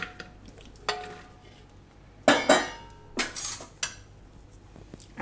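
A metal stand is set down inside a pressure cooker holding drumstick pieces, giving a few sharp clinks and metallic clatters spread over several seconds, close and fairly loud in a quiet kitchen.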